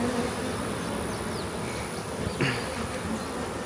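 Honeybees buzz around a freshly made hive split outdoors, a soft continuous drone of wings with individual bees briefly passing closer, under faint background noise.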